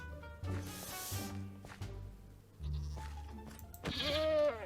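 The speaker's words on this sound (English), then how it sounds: "Well, we found the goat." Goat bleats in the video game Minecraft, a few short nasal cries close by with quiet game sounds between them, and no talk over them.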